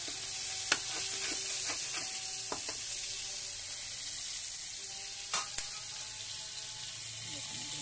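Fish frying in a pan of oil gives a steady, close sizzle with a few sharp clinks and scrapes of a utensil against the pan.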